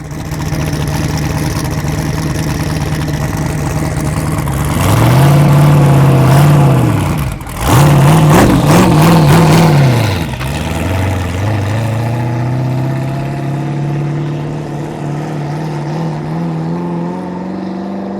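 A drift McLaren fitted with an LS V8 idles loudly and deeply, then is revved in several sharp blips before settling back into a rumbling, slowly rising idle, close up and with no talking.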